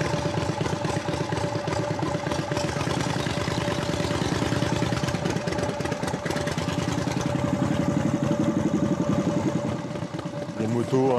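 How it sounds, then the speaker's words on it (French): A Harley-Davidson motorcycle's four-stroke engine idles steadily with a deep, lumpy rhythmic throb, close by and continuous throughout. "Écoutez la douce symphonie du quatre-temps Harley"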